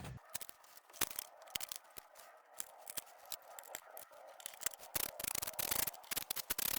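Valve cover bolts are tightened by hand on a Kia Optima 1.7L CRDi diesel engine, producing faint, close, irregular bursts of small metallic clicks and light scraping, with no talking.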